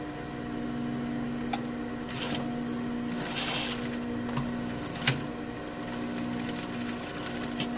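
A sewing machine runs in bursts, stitching a seam on a double welt pocket, with a steady mechanical hum broken by short louder rattling runs, close up and without talk.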